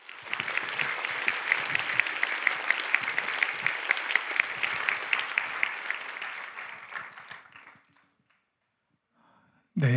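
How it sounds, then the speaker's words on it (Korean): A large church congregation at an evening service of a middle and high school youth retreat claps to welcome the pastor. The packed, even applause lasts about eight seconds, fades to silence, and a sharp sound comes at the very end. "오늘 우리가 모두 기대하고 사모하는 마음으로 목사님 박수로 모시도록 하겠습니다."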